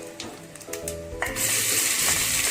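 Onions hit hot oil with whole spices in a pot for chicken dum biryani, a faint stirring clatter giving way to a loud, steady sizzle close by.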